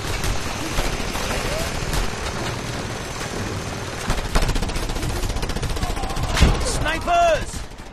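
Sniper gunfire in the video game Just Cause, a dense run of sharp shots and bursts against a busy game background, with a loud crack near the end.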